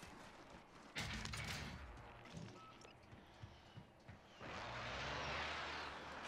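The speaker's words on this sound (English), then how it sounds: "friendly precision airstrike inbound" Precision airstrike explosions in a Call of Duty match: a loud broadband blast lands about one second in, a few sharp gunshot-like cracks follow, then a second sustained roaring explosion rumbles from about four and a half seconds to the end.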